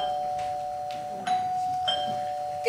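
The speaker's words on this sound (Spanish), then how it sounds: "¿Qué es? El timbre." A doorbell rings indoors as a steady, clear electronic tone holding through the moment, with faint clunks and rustles around it and no speech.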